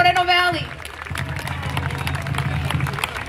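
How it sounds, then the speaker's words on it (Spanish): A crowd applauds for a Moreno Valley city councilman at a community recognition event. The clapping is a steady, dense wash that follows a voice at the start and continues throughout. "Un gran aplauso para nuestro concejal de Moreno Valley."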